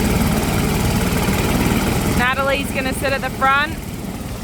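A helicopter idling before a scenic flight in Warrnambool gives a steady, loud engine drone; after a couple of seconds it drops back slightly as a person speaks close by over the continuing engine noise.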